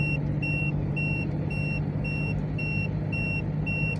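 A car's overspeed warning alarm beeps in a steady, regular pattern, about two high beeps a second, over a constant low engine and road hum while driving on the NH-744 four-lane highway.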